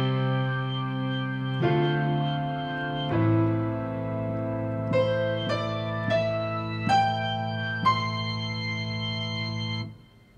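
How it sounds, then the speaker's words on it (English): Hammond B3 organ tone from the Omnisphere High Watt Hammond 2 patch layered with piano, sustained held chords changing every second or so with percussive piano attacks, steady and moderately quiet, no voices. "Next, I'm using a Hammond B3 organ."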